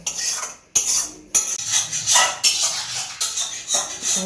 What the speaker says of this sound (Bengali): কড়াই পরিষ্কার করছে।